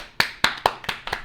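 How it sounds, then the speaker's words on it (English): Six hands clapping in a steady rhythm, sharp and close, each clap distinct with short gaps between. "let's just applaud"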